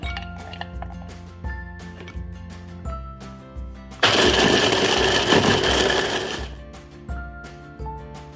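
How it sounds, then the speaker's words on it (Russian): A kitchen blender grinds roasted nuts into crumbs in a loud, whirring burst of about two and a half seconds, rising sharply over soft background music and then falling away. "Можно порубить ножом или в блендере"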